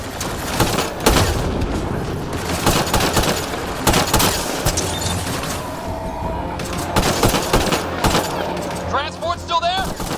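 Rapid bursts of gunfire in a Mass Effect firefight, loud and close, with repeated volleys and booms layered over background noise, and a brief voice near the end.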